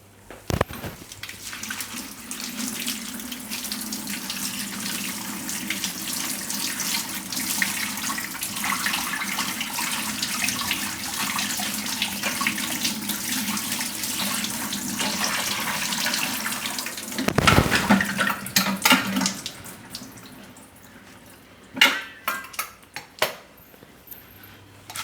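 Amaranth greens (cheel ni bhaaji) are rinsed in a kitchen sink under a running tap, with a steady loud gush of water and a brief clatter of the vessel near the end.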